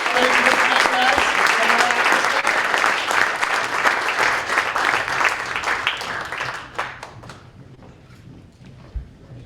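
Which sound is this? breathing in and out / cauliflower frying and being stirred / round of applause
round of applause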